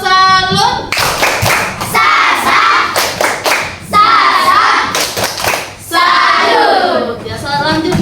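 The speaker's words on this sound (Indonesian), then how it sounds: "Dari itu kita tepuk salut ya untuk kelompok 1." A group of students performs a rhythmic tepuk salut salute in a classroom, loud patterned hand claps and thumps in quick bursts while voices chant along in unison between the clap sequences.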